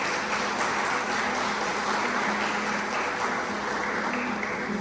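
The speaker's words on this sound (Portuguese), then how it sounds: "dá uma salva de palmas forte ao Senhor" A church congregation applauding during an evangelical Portuguese-language sermon, a dense, steady wash of many hands clapping that fills the whole stretch at an even loudness.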